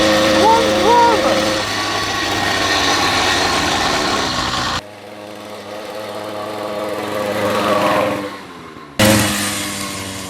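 A moped with a faulty clutch strains through a top-speed run, its engine buzzing loud and close with rising harmonics before a sudden cut, then a quieter, rougher stretch, with voices shouting over the noise.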